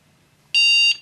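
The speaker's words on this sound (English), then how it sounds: "Should beep one time, the red light flash, and the green light will flash about every 5 seconds." A Lumber Wizard 4 woodworking metal detector gives a single clear electronic beep about half a second long as it switches on, loud and close against near silence.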